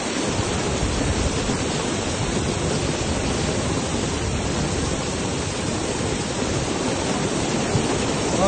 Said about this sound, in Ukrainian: У мережі публікують відео, на якому машини просто зносить водою.